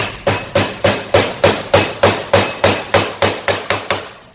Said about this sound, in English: I'll take a hammer.